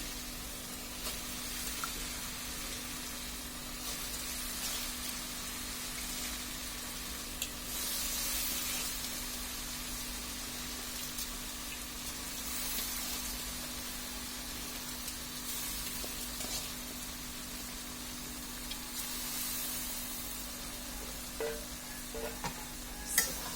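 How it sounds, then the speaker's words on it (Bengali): Rice and lentils are stirred and lightly fried among vegetables in a pot for shobji khichuri, giving a soft, continuous sizzle under repeated scraping strokes of the spoon, with a low steady hum behind it. "ভালোভাবে নেড়েচেড়ে দিতে হবে। চালটাকেও হালকা একটু কষিয়ে নেওয়া লাগবে।"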